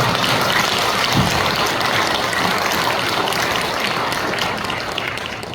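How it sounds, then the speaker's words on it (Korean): A congregation claps at a church service installing a new senior pastor, loud, dense and continuous applause filling the room with a rain-like texture, easing off slightly near the end. "박수 한번 칩니다"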